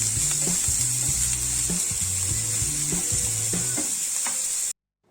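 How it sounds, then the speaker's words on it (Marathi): Onions frying in oil in a pan for masala pav, a steady loud sizzle with quick clinks and scrapes of a spoon stirring, then a sudden cut to silence near the end. "दोन ते तीन मिनटंच आपल्याला फक्त तेलामध्ये फ्राय करून घ्यायचं आहे"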